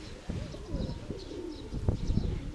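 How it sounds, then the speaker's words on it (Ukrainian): Pigeons coo softly in low, throaty bursts, with a few faint chirps over a light outdoor background. "Але пара голубів у небі."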